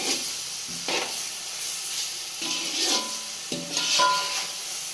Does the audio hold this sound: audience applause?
no